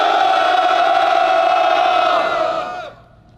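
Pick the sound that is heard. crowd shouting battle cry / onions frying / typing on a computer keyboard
crowd shouting battle cry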